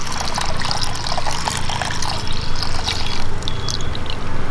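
A litre of milk pours into a pan for semiya payasam with a steady, close liquid trickle and splash that runs throughout.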